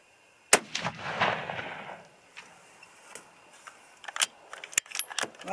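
A single loud, close 6.5 caliber rifle shot cracks out early and echoes away, followed by quieter clicks, rattles and small metallic handling noises at an outdoor range.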